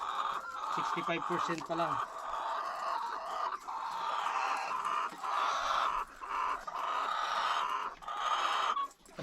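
Chickens clucking steadily on a small egg-laying farm, hens around six weeks into their stay, with near, overlapping clucks and calls filling the clip while someone talks over them.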